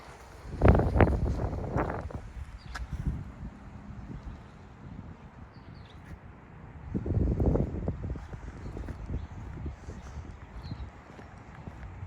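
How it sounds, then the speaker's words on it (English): Gusty wind buffets the microphone outdoors on a Rochester, New York street, rumbling low and rising in two stronger bursts, with a voice speaking briefly underneath. "A little bit windy out today."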